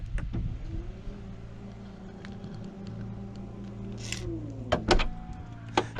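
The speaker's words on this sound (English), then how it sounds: "you hear it when you open and close the trunk" The motorized trunk lid of an Audi Q5 55 TFSI e Quattro S-Line plug-in hybrid hums steadily as it moves, then ends in a few sharp clunks and latch clicks near the close. A faint brief rattle of something loose inside is possible.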